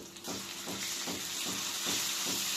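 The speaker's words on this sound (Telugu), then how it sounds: "అల్లం వెల్లిగడ్డను మంచిగా పచ్చివాసన పోయేదాకా ఫ్రై చేసుకుందాం" Ginger garlic paste sizzles in a hot pan with green chilies and browned onions, a steady loud hiss broken by regular stirring scrapes roughly every half second.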